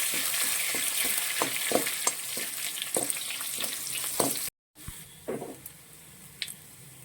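Curry leaves frying in hot oil in a pan for a coconut-roasted crab curry: a steady, close sizzle with scattered stirring clicks and scrapes, and a brief cut to silence midway before the sizzling resumes more softly.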